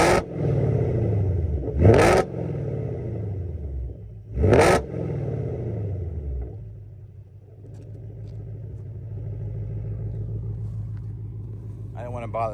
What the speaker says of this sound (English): Let's get a couple revs, huh? Get some rev action here.